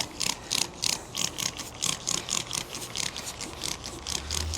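Quick, rhythmic hissing bursts of a spray bottle of cleaner being pumped again and again, close up, with no voices.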